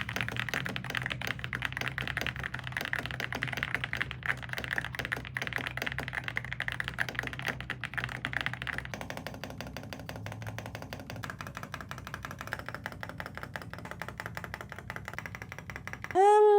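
Rapid, steady clacking of a Yunzii B87 mechanical keyboard being typed on, continuing without pause, ending with a brief tonal chirp.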